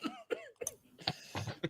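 Someone nearby lets out a cluster of rough coughs and throat clearing, several quick bursts close together and moderately loud, with no talking.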